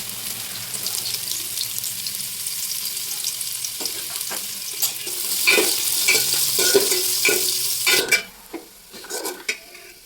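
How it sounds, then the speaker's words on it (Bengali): Shredded carrots and cabbage frying in a pan with chopped green chilli for egg chow mein, a steady sizzle rising midway, then several sharp spatula scrapes and taps on the pan, close up. "প্রথমেই আমি গাজরটাকে ভেজে নেব তারপরে বাঁধাকপি ভেজে গাজরটাকে দিয়ে দিলাম"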